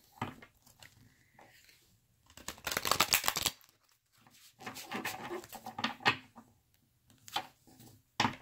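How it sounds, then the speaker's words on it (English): A deck of tarot cards is shuffled close up in a quiet room, giving irregular bursts of papery riffling and flicking separated by brief pauses. "I'm just going to shuffle these for you real quick."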